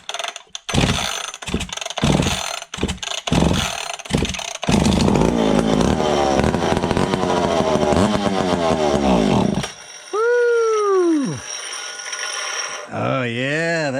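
A vintage McCulloch ProMac55 chainsaw, fitted with a swapped ignition chip and single-jet carb, fires in loud bursts, then roars steadily with the throttle held open before cutting out; short squeaky noises follow.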